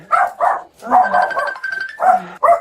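Pet dogs bark and whimper close by in a tense encounter with police, with short, rapid barks in quick succession and voices heard between them.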